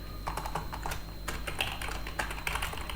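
Steady clicking of a computer keyboard as someone types code for a React Native app, a quick, uneven run of soft close keystrokes with no talk over it.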